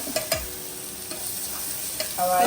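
Onions frying in a pan for beef vindaloo hiss steadily while a spoon stirs them, adding occasional soft scrapes and knocks, with the sizzle swelling louder near the end.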